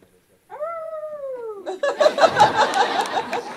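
People imitate coyotes, starting with a rising, sliding voiced howl and then breaking into several overlapping yips and howls, close and fairly loud.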